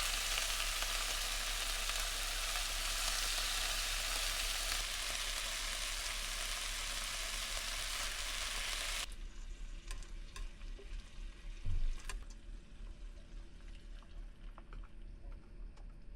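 Thin slices of Costco beef sirloin sizzling steadily in a hot pan, loud continuous frying close up that drops to a quieter crackle partway through, with an occasional clink of a utensil and no talking.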